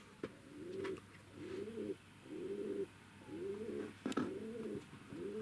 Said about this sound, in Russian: О, как у меня голуби воркуют, слышно, нет?